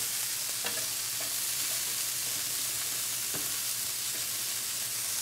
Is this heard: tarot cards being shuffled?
no